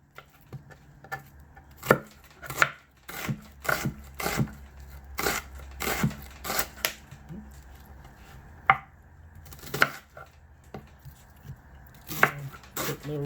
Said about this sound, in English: Quick little rough chop is fine.